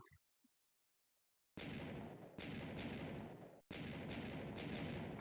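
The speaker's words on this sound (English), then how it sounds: "Let's see if there's a nice and controlled explosion." TNT blasts in Minecraft Pocket Edition on Android: after a short quiet pause, a loud burst of explosion noise, then two more booming blasts rolling on in quick succession.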